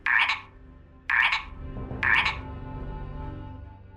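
A toad gives three loud, raspy croaks spaced about a second apart, each short and close, with a low rumble lingering beneath the last.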